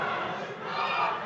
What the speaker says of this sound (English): a smattering of applause for the champion